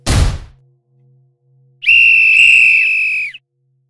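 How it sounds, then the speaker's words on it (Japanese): A loud, shrill whistle blast holds steady for about a second and a half, preceded by a brief burst of noise and a faint low hum. "鳴り響くホイッスルの音"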